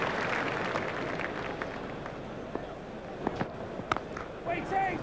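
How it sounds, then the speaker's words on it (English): Stadium crowd applauding in the EA Sports Cricket 2002 game during a World Cup India vs Kenya match, a steady broad wash of clapping and cheering with scattered sharper claps, mixed under a commentator's voice. "The crowd really enjoyed that shot."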